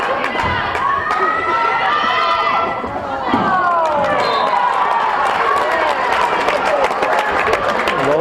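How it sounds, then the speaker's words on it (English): Spectators on both sides of a junior varsity volleyball gym applaud together, a steady wash of clapping with cheers and crowd chatter mixed through the whole stretch, loud and close throughout. "Both sides applauding that one."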